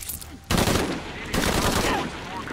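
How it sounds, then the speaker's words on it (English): Gunfire in Shadow of the Tomb Raider erupts in two loud bursts of rapid automatic shots, the second volley following close behind and carrying on steadily, with faint voices underneath. "More gunfire."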